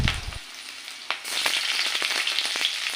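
Chopped onions and chillies hit hot mustard oil in a pan, bursting into a loud, steady sizzle that starts with a sharp crackle and keeps spitting and popping with no one speaking.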